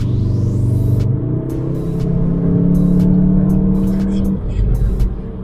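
A 310 PS Cupra Formentor's engine drones loudly from inside the cabin while driving, a steady low rumble with a rising tone that swells and settles.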